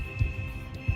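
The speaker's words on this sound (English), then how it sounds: "I don't need to hear your puppy heartbeat." Two deep, muffled heartbeat thumps from a dog in the video game Persona 5 Strikers, spaced about 0.7 seconds apart over a steady low hum and a thin high tone, with no talking.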